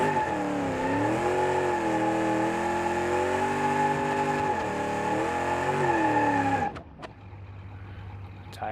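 A Big Block Chevy Impala engine in a BeamNG.drive drag race revs loud and close, its pitch rising and falling in several swells before cutting out abruptly, leaving a low idle with a few sharp clicks.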